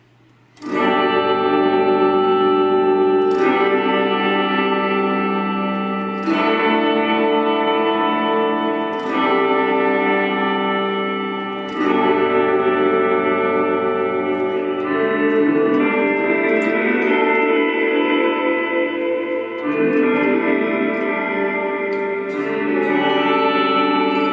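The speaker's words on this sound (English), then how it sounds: "first I'm going to turn the shimmer all the way up, the level, so you're just hearing the reverb." A Mooer Shimverb pedal's shimmer reverb with only the wet signal, guitar chords blooming into a loud, sustained wash of pitch-shifted reverb, each new strum every few seconds swelling over the lingering shimmering tail.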